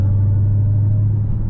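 A Dodge Challenger Hellcat pulling away at night under throttle, a loud, steady low engine rumble with a strong droning tone filling the cabin, continuous and without a break.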